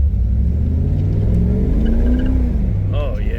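A 1988 Chevrolet Camaro IROC-Z engine rises in a steady rev as the driver gives it some gas while driving, a loud close rumble climbing in pitch with a brief voice near the end.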